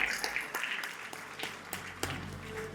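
Audience applause breaks out at a lamp lighting ceremony on stage, a steady wash of many hands clapping with a few sharper claps, fairly faint and continuous with a little background voice.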